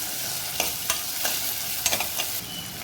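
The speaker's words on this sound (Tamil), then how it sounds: "அது நல்லா வதங்கினவுடனே ஒரு தக்காளி, அதையும் நல்லா வதக்கிக்கோங்க." Onion, ginger garlic paste and tomato sautéing in a pan for a green pigeon pea (thuvarai) fry, with a steady close sizzle and several soft scraping strokes of a spoon stirring the mixture.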